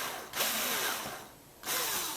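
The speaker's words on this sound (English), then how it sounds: "I selected my smallest drill bit and drilled 4 pilot holes for the mounting screws" Small drill bit boring pilot holes for mounting screws while installing an Atlas #305 model railroad turntable, a whirring power-drill sound in two close bursts separated by a short pause.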